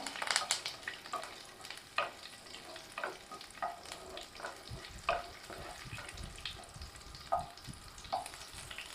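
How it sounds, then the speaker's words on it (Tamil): Green chillies fry in hot oil for pepper chicken gravy, a steady sizzle broken by repeated sharp clinks and scrapes of a spoon stirring the pan, no talking. "கீரின பச்சை மிளகாயை நான் சேர்த்துக்கிறேன் இந்த பச்சை மிளகாயிலிருந்து அந்த எண்ணெய் சேர்ந்து அந்த காரெல்லாம் கொஞ்சம் ரிலீஸ் ஆகட்டும்"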